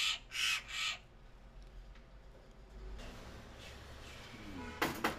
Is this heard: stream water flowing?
no